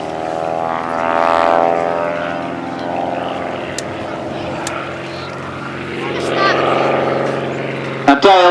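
A one-off fixed-wing airborne observation post aeroplane flies at the East Kirkby airshow, its propeller engine droning loud and steady with a rising and falling pass and a commentator talking over it.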